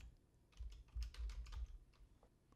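Quick bursts of keystrokes on a computer keyboard, close and clear, a short run of clicky taps clustered together then tapering off, with no voices.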